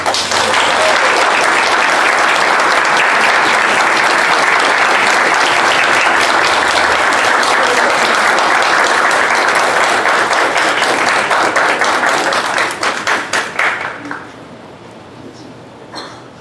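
Sustained applause from an audience at an academic tribute and book launch, loud and dense, continuing for over twelve seconds before thinning into scattered claps and fading out.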